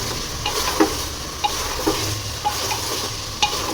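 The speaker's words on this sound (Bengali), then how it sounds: "এবার ভালো করে মশলার সঙ্গে কষিয়ে নিব।" Garlic, ginger and cumin paste sautés for khichuri, crackling steadily while a spatula scrapes and taps the pan in irregular, fairly loud strokes.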